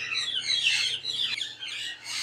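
Yellow ringneck parakeets call in a bird shop, shrill squawking and chirping in quick overlapping bursts, moderately close with no voices.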